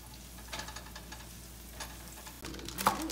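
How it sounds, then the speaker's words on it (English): White parts of scallions frying in an oiled skillet, a soft steady sizzle with faint crackles and a few brief stirring clatters near the end. "this is the white part of the scallions we're putting into the skillet. We are just going to caramelize those up a little bit"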